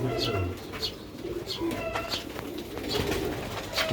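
Ferozpuri pigeons coo softly in repeated low phrases, close by, with someone talking over them and bird chirps mixed in.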